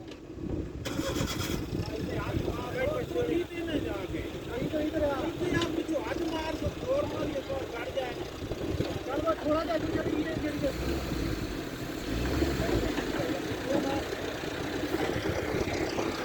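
A car stuck in deep mud on a rainy hill road, its engine revving and straining continuously while mud-caked tyres spin, with traffic waiting around it and people talking nearby.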